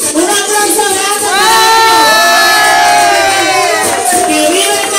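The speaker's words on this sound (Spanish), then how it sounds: "Un aplauso grande." Cheering crowd at a Dominican carnival gathering in a disco, loud whoops and shouts rising and holding steady throughout, with a bright whistle-like squeal over the dense noise of the people.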